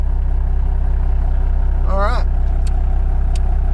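A car engine idling steadily after being jump-started with a Milwaukee 18V 5.0 lithium battery, a low even rumble close by, with someone speaking briefly over it.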